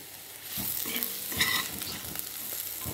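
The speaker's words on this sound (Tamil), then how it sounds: "கொஞ்சம் மெதுவாக கிளறணும்." A small-potato fry being gently stirred in a pan, soft scraping strokes over a quiet steady sizzle, close and moderately faint with no talking.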